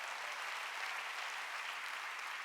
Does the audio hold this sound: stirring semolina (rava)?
no